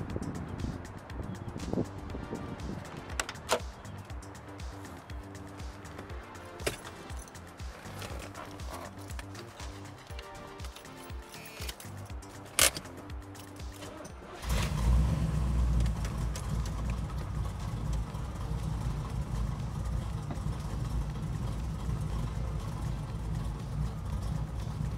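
A loud 1974 Corvette is cranked over with rapid clicking and ticking for about fourteen seconds, then the engine catches and settles into a steady, heavy, rumbling idle close by.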